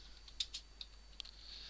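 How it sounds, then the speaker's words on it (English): A computer keyboard is typed on in four or five faint, quick clicks spaced irregularly over a low steady hum, with no voices. "the pressure of you watching me now is making me go all silly with my typing."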